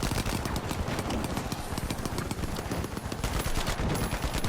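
Rapid automatic gunfire from a deployed turret in the video game The Finals, dense and continuous bursts crackling loudly throughout with no pauses.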